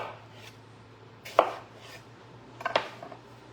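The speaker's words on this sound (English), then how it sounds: "we're going to cut up the cantaloupe" A knife cuts a cantaloupe into wedges with a fruit slicer: two sharp, crisp chopping strikes come at separate moments against a quiet kitchen background with a low steady hum.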